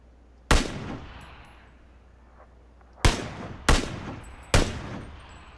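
Distant rifle shots from a ridge in PUBG, four sharp cracks with echoing tails: one alone, then three more spaced a second or less apart.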